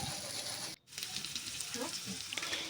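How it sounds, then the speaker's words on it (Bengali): Onions, spices, salt and grated ginger frying in a kadai, a steady close sizzle with a brief dropout and a few stirring scrapes. "এবার এই সমস্তগুলোকে আমি কিছুক্ষণ ভেজে নেব।"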